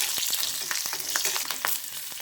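Garlic, a pinch of asafoetida and cut green chillies sauté in hot oil for dal palak, a steady close sizzle broken by irregular stirring scrapes and small pops, with no voices.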